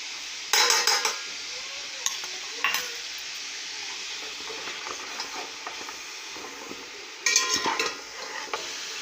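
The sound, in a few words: beef trotters sautéing with ginger garlic paste in pot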